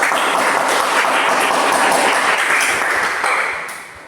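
A training class in coding and artificial intelligence bursts into dense, loud group applause, a steady wash of many hands clapping close together that tapers off toward the end.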